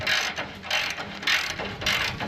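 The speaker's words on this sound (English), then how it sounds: "Screw this in here." Fine-thread bolt being screwed in by hand with a ratchet outdoors on a breezy day, giving a run of rhythmic clicking bursts in four evenly spaced pulses, close and fairly loud with light wind in the background.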